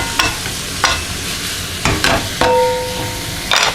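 Minced beef frying in a pan for British chili con carne, with repeated bursts of scraping as a utensil stirs and breaks it up over a steady sizzle, close and fairly loud.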